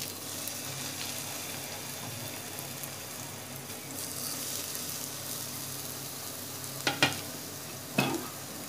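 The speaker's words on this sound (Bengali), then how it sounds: "তেলটা গরম হয়ে গেছে। এবার আমি সেই মাখা বেগুনগুলো দিয়ে দেব।" Mashed eggplant for a Cox's Bazar hotel-style begun bharta frying in hot oil, a steady soft sizzle throughout with a few sharper clatters of stirring near the end; no talking.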